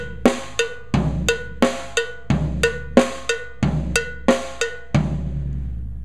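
Cowbell struck in a steady 6/8 eighth-note polyrhythm, nine or ten sharp ringing hits at an even pulse, loud and close with brief decays, played alone.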